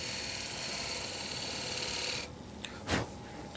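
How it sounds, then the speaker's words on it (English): A turning gouge cuts a wooden mortar on a lathe, giving a steady close rasping, scraping hum that stops partway through, followed by a short sharp knock. "Then I can turn the gouge over, do the same thing just at an angle, working the waste down in kind of a cone shape"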